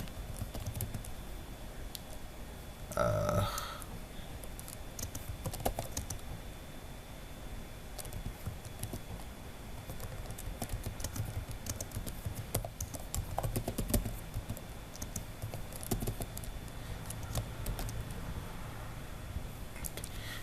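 Quiet, irregular keystrokes on a computer keyboard patter steadily, with a brief louder burst of clattering keys early on, close and fairly soft.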